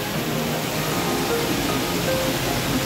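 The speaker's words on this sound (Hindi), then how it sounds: "ये डायरेक्ट पहाड़ों का पानी आ रहा" Mountain river water near Mawsynram, Meghalaya, flowing down in a steady broadband rush, close and unbroken, with no voices over it.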